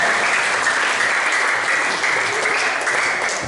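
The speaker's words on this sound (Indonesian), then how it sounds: "Tepuk dong" Schoolchildren clap together in a classroom, a loud, unbroken burst of many small hands that stays steady and close throughout.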